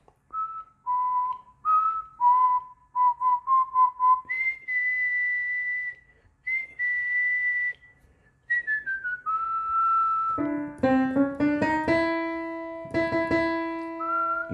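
A person whistles a melody alone, with clear sustained notes and short staccato phrases; near the end the whistling is matched to piano tones played on a keyboard.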